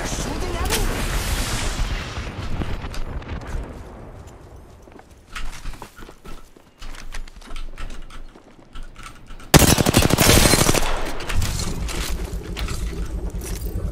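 Enemy gunfire in Apex Legends crackles in rapid bursts around the player, loud and close, with a sharp heavy volley near the end, mixed with other game sounds.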